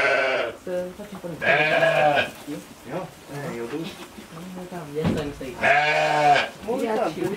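Sheep and goats in a fold bleat loudly and repeatedly close by, with overlapping wavering calls and no talk.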